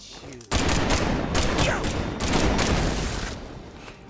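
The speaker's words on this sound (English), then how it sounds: "I'm just going to end this with a mag dump" A dense, continuous burst of rapid gunfire in Marvel's Midnight Suns: a magazine emptied in one sustained roaring volley that cuts in abruptly and runs for about three seconds before tapering off.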